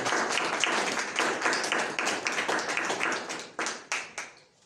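Congregation clapping and applauding at an evening church service, dense mid-distance clapping that thins into a few scattered, louder claps near the end, with no talk over it.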